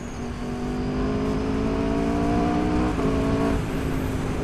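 Engine of a 2019 Aprilia RSV4 Factory motorcycle pulling hard while ridden, a steady loud drone with rising harmonic tones that dip briefly near the end as it shifts, close and continuous with no talk.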